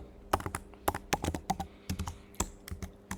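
Someone types on a computer keyboard, a quick, uneven run of sharp key clicks and taps at close range, with short pauses between bursts and no talking.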